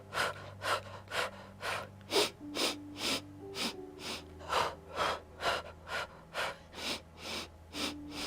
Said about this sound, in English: So we sniff and blow.